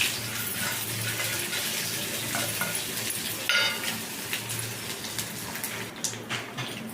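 Steady crackling sizzle of dried red chillies, urad dal, cumin, mustard seeds and green chillies frying in hot oil, continuous and close, with a few small clinks and stirring sounds, no voices.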